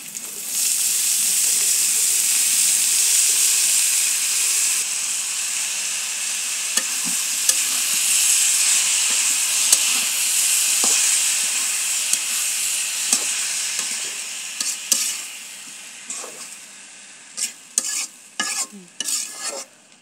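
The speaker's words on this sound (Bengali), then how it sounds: "এখন আমি পালং শাকগুলো দিয়ে দিব" Spinach sizzles loudly in a hot pan, with a steady hiss of frying. Near the end the hiss eases and a spatula scrapes and clinks in short bursts.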